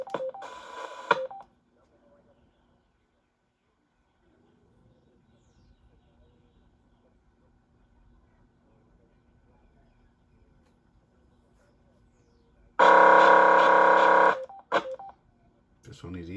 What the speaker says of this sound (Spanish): Digital Mobile Radio.